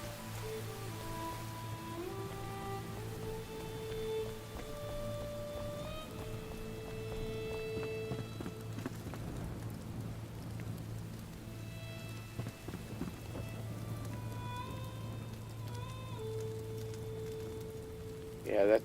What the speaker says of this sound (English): let's go see if it's raining up here. It is.